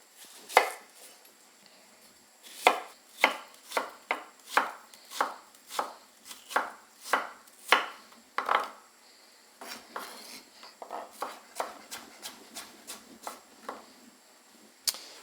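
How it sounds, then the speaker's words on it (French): A knife chops apples into thin matchsticks on a board for a garnish, a series of quick, crisp strikes in irregular bursts, close and clear, with no talking. "on va faire comme des pommes allumettes, des petites pommes allumettes toutes fines"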